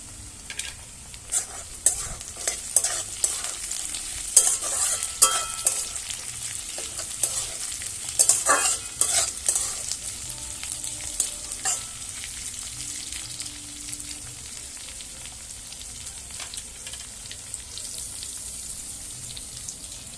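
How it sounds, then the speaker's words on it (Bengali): Chopped onion and capsicum frying in a pan make a bright, steady sizzle with repeated scraping stirs of a spoon, close and clear with no talking. "তো পেঁয়াজটা মোটামুটি আমার ভাজা হয়েছে, এবার আমি এর মধ্যে একটুখানি দিয়ে দেবো ক্যাপসিকাম"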